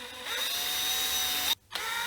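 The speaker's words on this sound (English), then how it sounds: "now we're just going to drill these holes here" Power drill boring pickup holes into a Telecaster-style guitar body, a steady high whine that runs continuously, cuts out briefly near the end, then resumes, loud and close.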